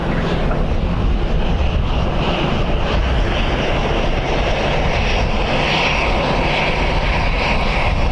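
A jet taxis at Dublin Airport on a windy day, a loud, constant engine whine and rumble filling the whole stretch, close by and without pause.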